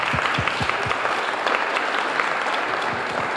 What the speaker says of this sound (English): So can I just have one more round of applause for all of the student artwork?